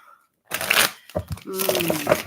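Tarot cards being shuffled in a quick crisp burst of riffling, then a pause and a second stretch of card flicking with a voice speaking over it.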